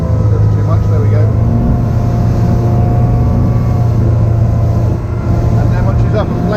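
A motorboat throttles up toward planing speed on the water, its engine a loud continuous drone with a broad rushing wash beneath, steady throughout with no pauses.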